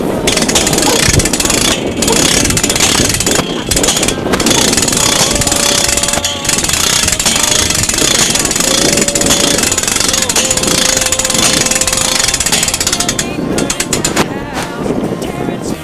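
Hand crank raising an MN-Outdoor Products trailer-mounted hunting stand, a loud continuous metallic grinding and rattling with faint squeaks, steady for the whole stretch.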